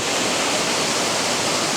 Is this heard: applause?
no